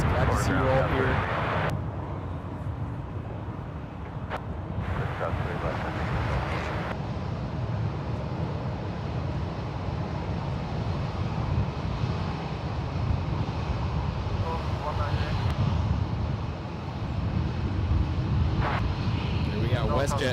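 WestJet airliner taxiing out at San Francisco International Airport for departure to Calgary, a steady low jet rumble with wind noise, heard under someone talking.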